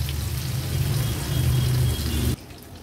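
Pieces of Rawas fish fry in oil in a pan over low to medium flame, giving a close, steady crackling sizzle that drops off sharply near the end.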